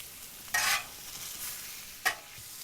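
Sausage frying on a camp griddle gives a quiet background sizzle broken by two short bursts of louder hissing and scraping, with no talk.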